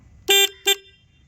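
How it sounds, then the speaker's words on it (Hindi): A KTM Duke 250 motorcycle horn sounds two short, loud blasts, a longer one and then a briefer one, alone with no talking. "मैं हॉर्न एक बार ऑन करके आपको दिखाता हूँ।"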